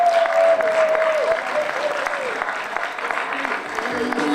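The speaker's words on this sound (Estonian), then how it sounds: "Veel kord suur aplaus" Audience applause for a band at the Visioon 2025 event, a steady dense clapping crowd sustained throughout with a few faint voices mixed in.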